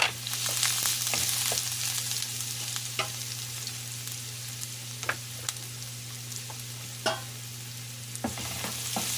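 Garlic browns lightly in fresh oil for adobong kangkong, a steady close sizzle broken by occasional scrapes and taps of stirring, with no speech.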